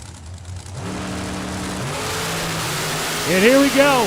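Drag racing cars, a blower car and a dragster, accelerate down the track in the distance, a steady engine drone with rising revving tones near the end, under an announcer's commentary.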